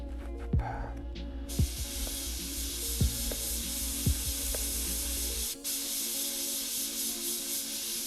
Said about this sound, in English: so the airbrush is now set to about 20 psi.